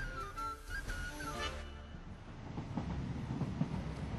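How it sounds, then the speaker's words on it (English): A passenger train running north from Edinburgh to Arbroath rumbles along steadily with faint rail clatter, heard quietly from inside the carriage. "I'm taking a train from Edinburgh, heading north to Arbroath"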